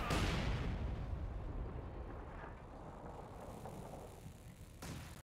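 Heavy artillery cannon fire in the World War II strategy game Company of Heroes 2: a loud, sustained low boom and rumble with rolling battle noise, ending in a sharp burst.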